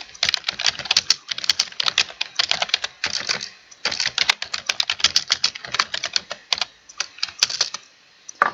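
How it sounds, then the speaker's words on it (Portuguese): Someone types steadily on a computer keyboard, a near and fairly loud clatter of rapid key presses coming in bursts with short pauses, no voices. "E eu estou digitando meu trabalho hipotético aqui"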